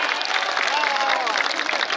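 Audience at a mushaira claps steadily and densely for about two seconds, a broad continuous wash of hands close and fairly loud, with a voice faintly audible within it.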